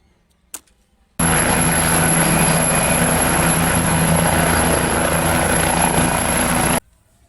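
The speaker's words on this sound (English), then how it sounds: "Helicopter, mini size helicopter." A mini toy helicopter whirs with a steady, loud buzzing drone from its small rotor motor, running for about five seconds close up and then cutting off abruptly, after a single faint click beforehand.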